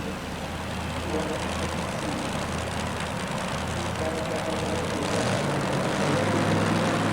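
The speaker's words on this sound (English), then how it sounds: "He's revving the motor." A loud two-wheel-drive pulling truck engine revs and drones steadily at a 1991 truck pull in Philadelphia, building slightly in intensity, a rough continuous roar with a low rumble underneath, heard up close.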